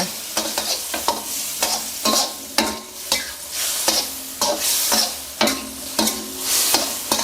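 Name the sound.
stir-frying braised pork in thickened sauce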